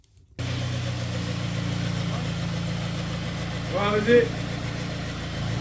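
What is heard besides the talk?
6.5 litre turbo diesel engine idling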